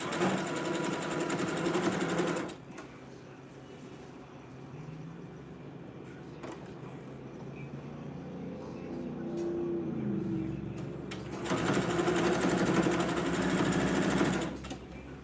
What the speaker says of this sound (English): So I'm gonna stitch this on and then I'm gonna flip it over.